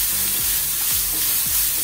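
Finely chopped onion sizzles in hot oil in a pan for baingan bharta, a steady close hiss with a few spoon strokes scraping through it and no voices.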